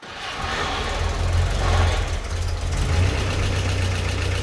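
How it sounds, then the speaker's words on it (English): Car engine idling steadily after an oil change, a low rumbling drone with a slight knocking texture, close by and uninterrupted, with no voices. "we'll run up the engine just so we can get oil moving through it"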